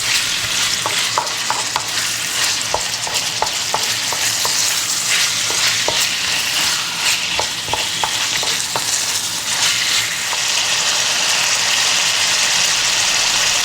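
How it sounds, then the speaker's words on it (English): Thin strips of boneless, skinless chicken breast stir-fry in a hot pan for a Chinese-style chicken cashew dish, giving a loud, constant sizzle with repeated sharp scraping and tossing clicks throughout, no voices. "And we're going to just throw that around in the pan just for 3 minutes."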